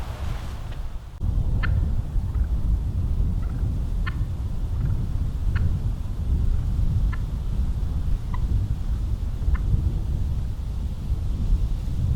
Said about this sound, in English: I've never seen so many turkeys before.